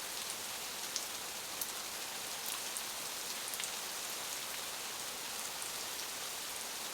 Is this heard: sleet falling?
yes